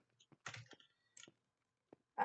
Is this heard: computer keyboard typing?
yes